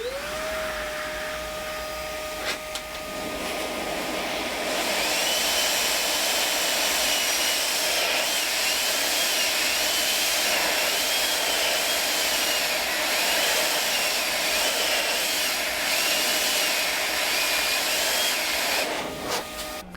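A Milwaukee M18 Fuel 6-gallon wet/dry vacuum runs on speed setting 2, a loud, steady motor roar with a high whine that climbs and holds for nearly twenty seconds before cutting off, no talking.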